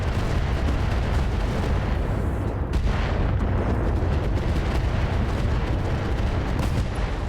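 Mech weapons fire in the RogueTech video game, heavy booming artillery-like blasts rolling continuously at loud, dense volume with no talking.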